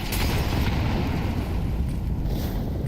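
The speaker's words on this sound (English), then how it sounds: "Zershin just hit by flashbangs" Flashbang grenades burst in a Counter-Strike match, a loud sustained blast and rumble with no voices.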